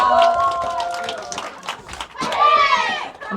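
A school audience claps in a quick burst for a tap dance performance while voices call out and cheer over the applause.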